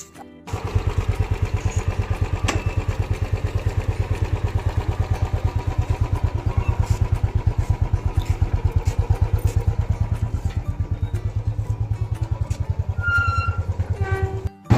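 A motorcycle ridden at steady speed, its engine puttering in a close, loud, rapid even rhythm from start to finish, with light rattles and a few faint high beeps near the end.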